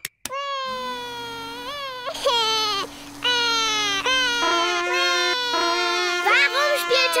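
A cartoon baby piglet who has just woken up cries loudly. The wails come in long, wavering bursts, each followed by a short catch of breath, and they sound up close over a steady tone.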